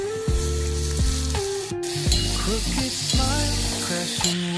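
Potatoes fry in a pan with turmeric, goda masala, red chilli powder and onion-garlic masala, giving a steady close sizzle beneath a rhythmic melodic backing with no talking.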